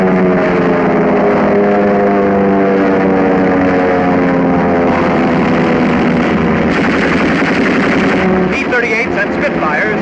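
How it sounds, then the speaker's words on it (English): A WWII dogfight over North Africa, with a Spitfire diving on a Messerschmitt: dense, continuous roar of aircraft engines layered with rapid bursts of gunfire, loud and sustained throughout, with the texture shifting near the end. "This is a dogfight. A Spitfire dives on a Messerschmitt."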